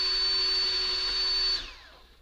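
A power drill bores a 1/16 inch hole in a model Spitfire wing, a steady near whine that spins down at the end.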